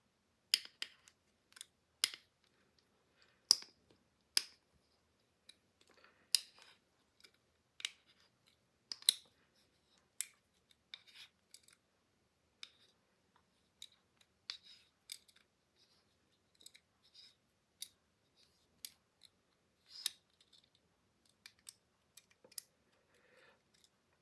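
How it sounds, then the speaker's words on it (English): Small metal clicks and ticks from a bushing being turned out of a Chris Reeve Sebenza-style knife while the pivot screw is held, a steady scatter of sharp, close taps with quiet gaps between them and no talk. "if we keep rotating this, the bushing comes out of the knife as well"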